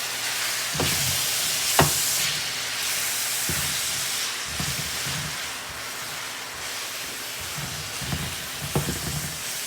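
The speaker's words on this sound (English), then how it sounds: "So it's time to put the pepper and the scallion in" Sweet pepper and scallion sauté in a pan for ackee and saltfish, a steady hissing sizzle with soft thumps and stirring knocks scattered throughout, close and alone.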